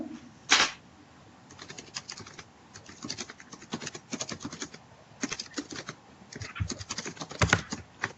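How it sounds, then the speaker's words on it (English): Computer keyboard typing in bursts of quick clicks with short pauses between, fairly close and moderately quiet, no voices. "Is anyone typing?"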